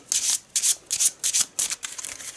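A deck of Eldritch Horror board game cards being shuffled by hand: a quick series of crisp riffling bursts, about eight close, papery flutters in rapid rhythm, alone without talk.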